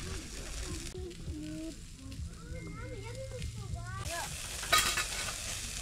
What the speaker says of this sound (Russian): Парни жарят хлеб